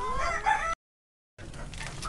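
Chickens and a rooster cluck and call close by in two brief bursts separated by a short silence.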